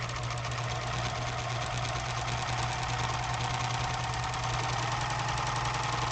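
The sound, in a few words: serger sewing a rolled hem with short stitch length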